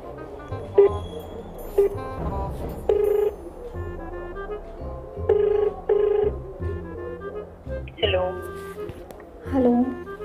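A phone ringing while calling a friend, with repeated tonal ring bursts recurring every second or two at moderate level, under steady background sound and some voice activity.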